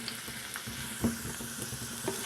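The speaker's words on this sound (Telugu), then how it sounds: "ఆయిల్ హీట్ అయింది దంచిన వెల్లుల్లి ఒక హాఫ్ స్పూన్ మెంతులు వేసుకోవాలి" Crushed garlic and fenugreek seeds fry in hot oil for buttermilk rasam, giving a steady close sizzle with small crackling pops throughout, no voices.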